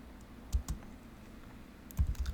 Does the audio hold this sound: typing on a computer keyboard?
yes